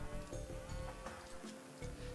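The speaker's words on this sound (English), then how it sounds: "So now I'm looking for 2 more sheep" Sheep bleat repeatedly in the Age of Empires video game, standing out over a steady bed of in-game ambience and music through the short stretch.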